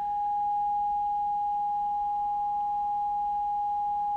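An FM OGRE through-zero FM oscillator producing a steady sine tone near one kilohertz while the FM modulation is raised, the pitch staying largely constant and smooth throughout at moderate volume.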